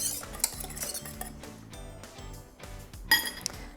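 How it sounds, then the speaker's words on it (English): Ingredients being whisked together with coconut milk in a bowl for a pie filling, a rhythmic run of metallic clinks and taps against the bowl, with a sharper clatter near the end and no talking. "And whisk that together."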